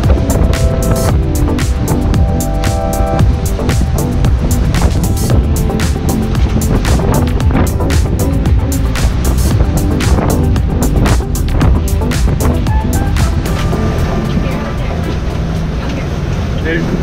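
Sailboat engines drone loudly and steadily while charging the house battery bank offshore in gusty wind, with water rushing past the hull and a person talking over the noise.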